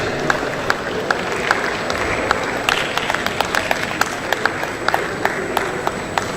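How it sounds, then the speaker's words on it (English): An audience at a national conference claps as a female presenter takes the stage, continuous crowd clapping with scattered sharp individual claps standing out over a murmuring room. "Please, let's keep clapping as she takes the stage"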